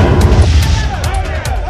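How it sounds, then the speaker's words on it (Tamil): Firecrackers at an election victory celebration burst in rapid, loud, overlapping pops and bangs, forming a dense continuous crackle with sharp cracks and a booming undertone. "திமுக மற்றும் காங்கிரஸ் கட்சியினர் பட்டாசு வெடித்து மகிழ்ச்சியை வெளிப்படுத்தினர்"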